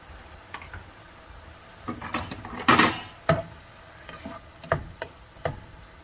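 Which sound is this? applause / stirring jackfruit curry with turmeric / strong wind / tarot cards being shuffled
stirring jackfruit curry with turmeric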